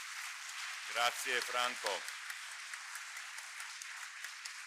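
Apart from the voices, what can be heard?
audience applause for the guests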